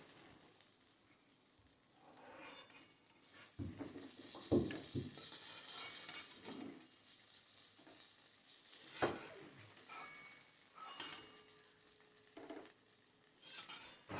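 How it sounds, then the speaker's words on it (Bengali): Nigella seeds hiss and crackle as they temper in hot oil for an okra mustard curry, a steady quiet sizzle with occasional stirring scrapes and a few sharper clinks of the pan. "ওই তেলের মধ্যে সামান্য কালো জিরে ফোড়ন দিলাম"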